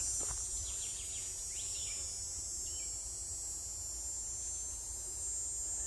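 Loud cicadas drone through wooded hiking trails, a steady high-pitched buzz that holds unbroken from start to finish, with a few faint bird chirps scattered above it.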